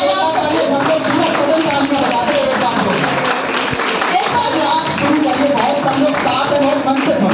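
An audience at a Hindi poetry recital in Delhi claps a steady rhythmic beat, continuous and fairly loud, while a voice sings or recites over the clapping throughout.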